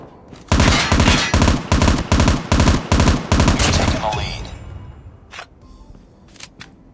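Rapid automatic gunfire in a video game match on the Highrise map, loud bursts of repeated shots for about four seconds, then fading echoes and a few scattered distant shots with no talking.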